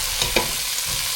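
Aubergine and meat stir-fry being stirred in a pan, a soft scrape and sizzle with two brief louder strokes over a steady frying hiss, close and fairly quiet.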